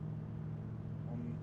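Ford Raptor truck engine in DayZ held in top gear, a steady low drone pulling under throttle, with a slight rise in pitch toward the end and a voice talking over it.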